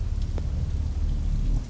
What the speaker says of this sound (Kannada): ಆಚೆ ನೋಡಿದ್ರೆ ಅಷ್ಟೊಂದು ಮಳೆ ಬರ್ತಾ ಇದೆ